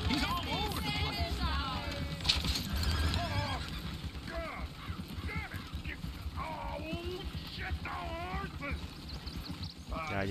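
Horses whinny and neigh repeatedly with hooves clopping in the Red Dead Redemption 2 video game, the neighs recurring across the span amid busy game sound and someone talking.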